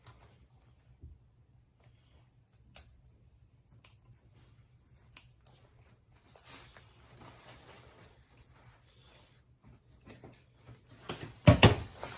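Scissors cut PVC material for an inflatable hood, heard as faint, scattered snips and soft plastic rustling that grow louder toward the end, with no talking.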